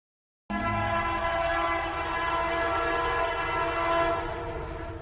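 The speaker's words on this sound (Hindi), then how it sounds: "इसी बीच ट्रेन प्लेटफॉर्म पर आ पहुंची।" A train pulls into a platform with a steady rolling rumble and sustained horn-like tones, continuous and fairly loud from start to finish.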